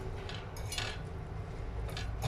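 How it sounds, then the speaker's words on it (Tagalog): Lucky Me pancit canton noodles being stirred with utensils, a steady faint scraping and light clinking of metal against a plate, continuous and close with no talking. "haluin lang natin siya guys"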